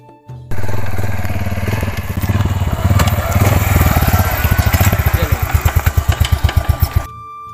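A motorcycle is ridden up a rough mountain road in Kashmir. The engine roars loud and close, then settles into a fast, rhythmic chugging throb before cutting off near the end.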